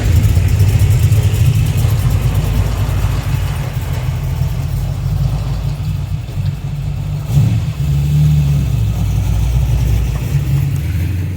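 Mercury Cougar engine running as the car pulls out and drives off, a steady low rumbling drone with a slight swell partway through, close and continuous with no voices.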